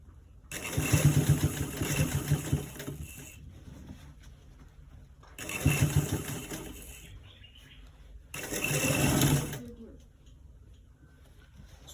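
A sewing machine stitches a collar roll neck in three separate bursts of a few seconds each, the motor whirring up and stopping between runs, nearby and moderately loud.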